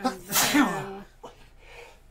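A single loud, close sneeze bursts out, followed by brief talk during a Marvel Champions card game session.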